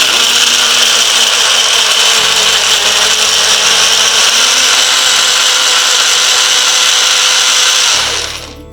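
A mixer grinder whirs loudly and steadily as it grinds small gooseberries with a little water, holding one continuous high-pitched motor roar for about eight seconds before it winds down at the end.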